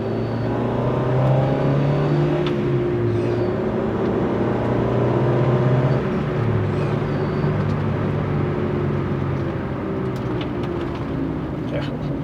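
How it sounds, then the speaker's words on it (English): The engine of a Rover 216i with an old cam belt drones steadily while driving and swells slightly under light throttle, with continuous road and cabin rumble throughout. "I'm gonna give it a bit of throttle just to feel it anyway."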